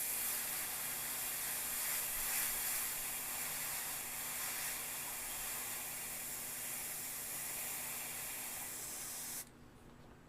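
An airbrush with a 0.3 mm HPC nozzle sprays Createx white paint, giving a close, steady hiss that holds for about nine seconds and then cuts off abruptly to quiet.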